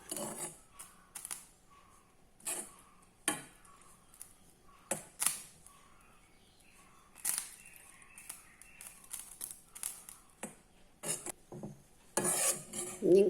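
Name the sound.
bread crumbs being roasted and stirred in a pan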